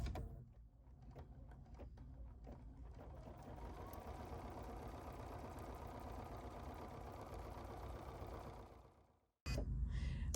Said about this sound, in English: now this is going to sew the pink fabric to the stabilizer